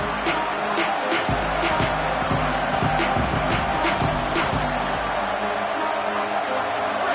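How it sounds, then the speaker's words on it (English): Loud, continuous roar of a college football stadium crowd during a game, dense and unbroken throughout, with an announcer's voice talking faintly over it. "This crowd ready to make its presence known."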